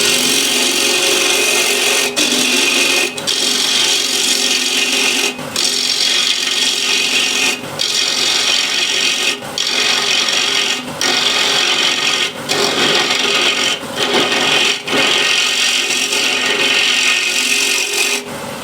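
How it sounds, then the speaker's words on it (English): Ball gouge scraping waste wood from a handmade picture frame, a steady rasping, rubbing sound in close, repeated strokes with short pauses between passes, with no talk. "I want to remove some of this waste here. Just grab a ball gouge."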